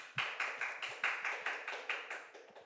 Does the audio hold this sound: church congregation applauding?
yes